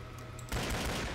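A pair of magnum pistols firing in the Killing Floor video game: a brief quiet lead-in, then a sudden dense volley of loud shots.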